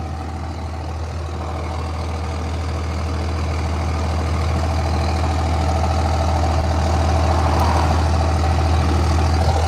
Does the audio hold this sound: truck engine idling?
yes